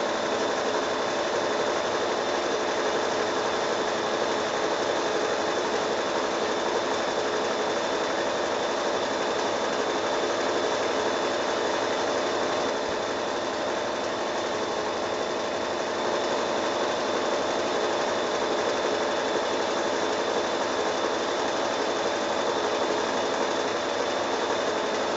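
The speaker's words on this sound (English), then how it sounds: "I'm just going to zigzag right over the raw edges just to stop any fraying that might happen there" Sewing machine zigzag stitching over raw fabric edges while making children's bedding, a continuous fast, even mechanical whir that stays steady and close for the whole stretch.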